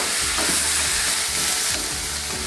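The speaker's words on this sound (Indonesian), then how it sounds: "Tumis bau harum, lalu masukkan kacang buncis, masukkan tomat." Green beans and tomato stir-fry with garlic in a hot pan, a loud, dense sizzle throughout with rhythmic scraping from stirring.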